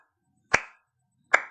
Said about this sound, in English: So clap it for them a couple of times.